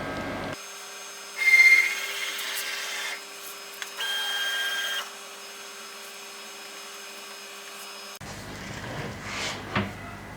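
A 6012 hybrid CNC router's motors hum and whine as the machine travels out to its work position, with a couple of louder movement bursts over a low steady drone and a clatter near the end; no speech.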